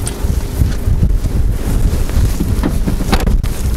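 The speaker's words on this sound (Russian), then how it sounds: "Ветер сегодня сильный." Strong wind buffets the microphone at an outdoor car market in a continuous, heavy rumble with gusty surges and no talking.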